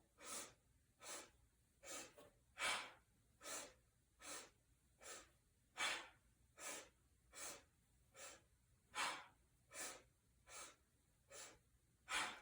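Deep yoga breathing during a lower back and core session, as about a dozen even, breathy inhales and exhales that repeat at a steady rhythm of roughly one per second, close and clear with no talk.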